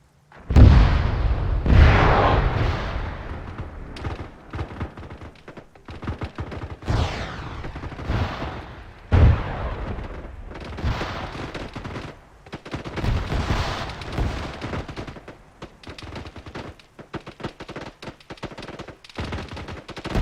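Heavy gunfire and booming blasts during an ambush in a military video game, loud sustained bursts of automatic fire and explosions that ebb and surge across the whole stretch.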